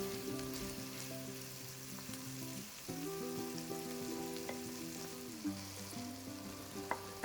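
Slit green chilies frying in a chicken curry pan, a steady soft sizzle that runs throughout beneath louder background music, with one sharp knock at the very end.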